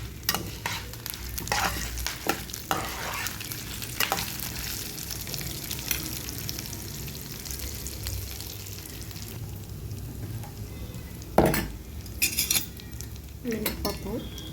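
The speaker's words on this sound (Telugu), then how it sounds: "2 రెబ్బలు కడిగి ఆరబెట్టుకున్న కరివేపాకు వేసుకోవాలి. కొంచెం జీలకర్ర అన్నీ కలిపి వేయించుకోవాలి." Curry leaves and cumin fry in a pan for a tempering, with scraping stirs and clinks of a metal spoon against the pan over a steady low sizzle, and a few sharper clatters near the end.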